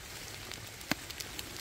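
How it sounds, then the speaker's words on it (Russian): Steady rain falling in a forest in Ireland, a soft continuous patter of drops with a few sharper taps close by, quiet and alone. "А дождь все сильнее и сильнее."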